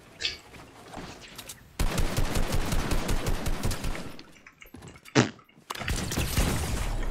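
Video game gunfire: bursts of rapid automatic shots fill the middle stretch, a sharp single blast follows after a short gap, and then more dense firing sets in.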